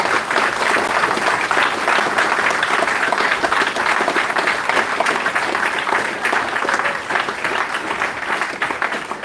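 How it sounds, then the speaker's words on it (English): An audience at a live interview event with two video game developers applauds, dense steady clapping that keeps going at full strength throughout. "Let's have a round of applause for these two chaps."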